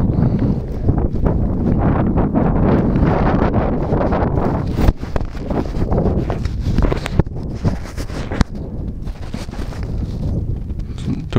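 Strong gusting wind at an F5J model glider contest field buffets the microphone in rising and falling rushes, with a voice talking over it.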